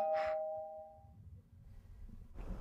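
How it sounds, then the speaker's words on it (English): A single doorbell chime sounds clearly at the start and fades into quiet room noise before a rustle at the end. "Did he just ring the fucking doorbell?"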